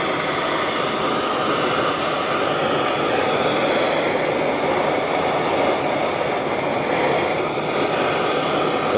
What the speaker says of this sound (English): I'm going to grab a torch. I'm going to see if I can heat up that outer race.